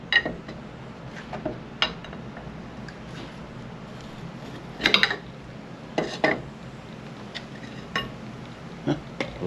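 Metal pry bar clanking and clinking against parts while Honda Goldwing front calipers are removed, several sharp scattered clinks and knocks at close range over a quiet workshop background.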